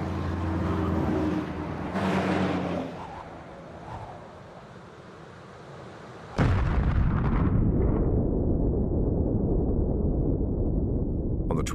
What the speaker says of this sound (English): the Soviets also explode an H-bomb